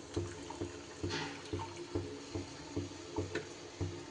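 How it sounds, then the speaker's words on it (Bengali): Hot water is poured into a pot of chicken curry that has been cooking over a medium-low flame, giving soft, rhythmic sloshing and gurgling pulses close by and fairly quiet. "এইবার দিয়ে দেব আমি আগে থেকে করে রাখা গরম জল।"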